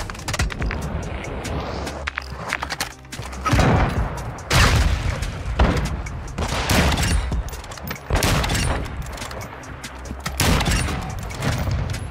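Rapid gunfire and sniper shots ring out in an online shooter video game, sharp loud bursts repeating irregularly throughout with brief gaps, some heavy booming reports among them.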